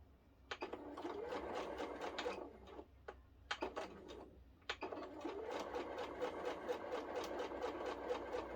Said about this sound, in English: all you're going to do is sew straight down